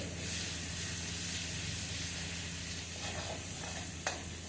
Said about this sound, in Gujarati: બધા મસાલાઓ તેલ સાથે બરાબર મિક્સ કરી લઈએ.